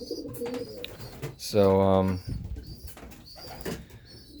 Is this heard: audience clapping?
no